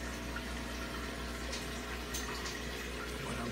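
Water pours steadily into a puffer fish aquarium during a water change, a constant rushing, splashing fill that stays fairly faint and even throughout with no talk.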